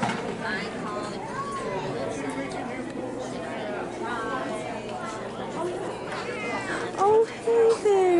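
Cats meow repeatedly amid the chatter of a busy cat show hall, with a few louder, drawn-out meows near the end, while people talk close by.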